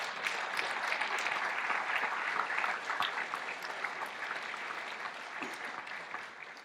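An assembly audience at a keynote gathering claps steadily, a dense crowd applause that carries on evenly before slowly thinning toward the end.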